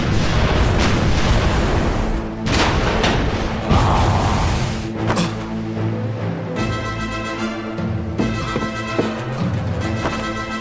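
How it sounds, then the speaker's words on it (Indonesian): Cannon fire in an animated Indonesian-dubbed cartoon battle, a series of loud booming blasts and crashes layered over dramatic music, with heavy impacts repeating through the scene. "Meriam! Tembak!"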